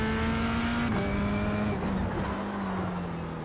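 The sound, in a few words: F3 car brake lock-up in corner, iRacing video game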